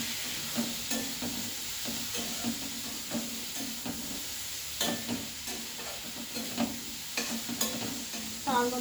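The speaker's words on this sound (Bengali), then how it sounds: "আবার আমি ভালো করে সব কিছু কষিয়ে নিচ্ছি।" Vegetables sautéed with turmeric and grated ginger in a pan give a steady soft sizzle, with repeated stirring scrapes and clinks close by and no talk.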